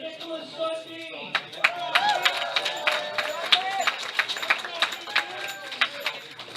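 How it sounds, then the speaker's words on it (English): An audience claps scattered rounds of applause at a powerlifting youth nationals medal ceremony, with sharp individual claps under an announcer's voice and crowd murmur. "Give him another round of applause."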